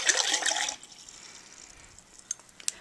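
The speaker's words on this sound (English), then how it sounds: "we're going to pour the 1 cup of water into the clear cup" One cup of water pours quickly into a clear cup in a short, splashy gush lasting under a second, then a few faint drips and small taps follow.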